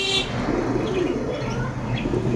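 A pigeon at a Serampore bird shop coos in low, muffled tones, partly buried under a dense, steady wash of shop and street noise.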